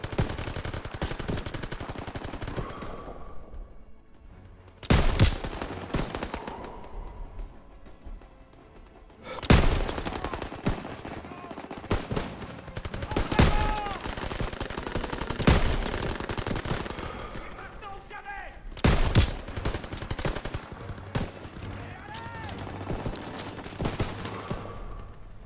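Sustained machine gun fire with scattered gunshots and heavy bursts in a Call of Duty WW2 battle defending a bridge, loud and dense throughout, with sharp blasts punctuating a continuous clatter.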